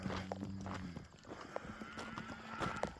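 A herd of cattle on a hiking trail moos near and loud, several overlapping low calls sounding in quick succession alongside faint shuffling.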